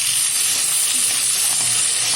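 Katla fish fries in a pan without turmeric, a loud, steady sizzle and hiss of hot oil close up, continuous throughout.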